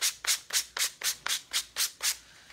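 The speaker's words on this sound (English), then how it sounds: "we're just going to go ahead and sand our pumpkin" Sandpaper is rubbed over a primitive pumpkin craft piece in about nine even back-and-forth strokes, each a soft close scratchy swish at a steady quick rhythm, with no talk.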